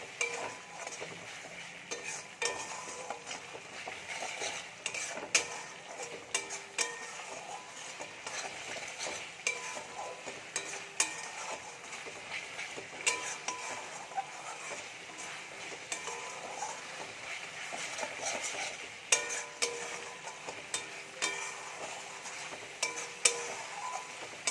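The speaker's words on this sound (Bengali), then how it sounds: "এই মশলাটা আরও ভালো করে মিনিট দিয়ে কষিয়ে নেব।" A spice mix is stirred and fried in a pan, giving a quiet, continuous sizzle broken by frequent scraping strokes and light clinks of a utensil against the metal.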